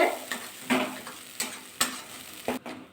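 A spatula stirs prawn curry made with sour curd in a pan over low heat, giving about seven distinct scraping strokes in an uneven rhythm over a faint sizzle, with no voices.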